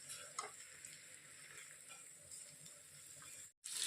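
A spoon stirs chicken curry with finely chopped kohlrabi leaves in a pot. It gives a steady scraping, gently sizzling churn, then a brief gap before a louder clatter at the end.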